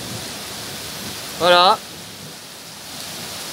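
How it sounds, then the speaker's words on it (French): Heavy rain pours during a moderate August thunderstorm in Grenoble, Isère, as a steady, dense broadband hiss. One brief spoken word cuts in midway. "il pleut un peu beaucoup"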